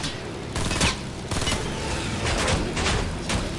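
In the video game Fortnite, several sharp gunshots crack in quick succession, a few louder reports spaced across a few seconds amid a busy game soundscape.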